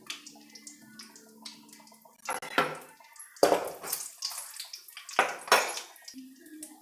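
Dried red chillies dropped into a spoonful of hot oil in a pan give short bursts of sizzling and spattering, mixed with light clinks of a utensil against the metal, close by with no talking.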